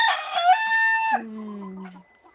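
A village farm rooster lets out a strong, near crow that rises and holds, then drops into a lower drawn-out tail before fading to quiet, with no speech.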